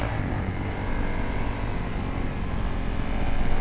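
A stretched Suzuki DR-Z dirt bike engine drones steadily in an open lot, a continuous loud rumble that swells slightly toward the end as it revs.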